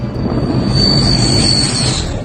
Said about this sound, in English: Plane close pass.